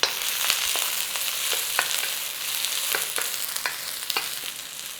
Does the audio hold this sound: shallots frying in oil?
yes